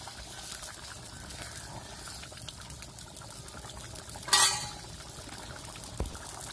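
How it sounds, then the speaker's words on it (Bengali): Grass carp fish curry bubbles in a pot over a village cooking fire, giving a steady low churning noise with one sharp metallic clink partway through and a faint knock near the end. "তরকারিটা বলক এসে গেছে"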